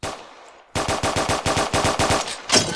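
Rapid gunfire in the Roblox game Brookhaven: a close, loud burst of about nine evenly spaced shots in quick rhythm, ending in a brighter final crack, with no talking.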